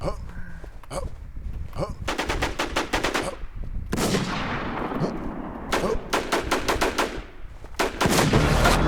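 Bursts of rapid automatic gunfire from the online shooter Warz crackle in several volleys, separated by brief pauses and echoing tails, loud and close throughout.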